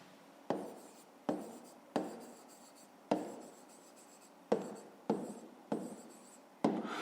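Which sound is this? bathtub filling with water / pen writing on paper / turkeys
pen writing on paper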